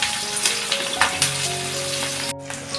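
Home-grown vegetables sauté in a pan for veg chilli, giving a steady close crackling sizzle with faint stirring scrapes and a low background hum.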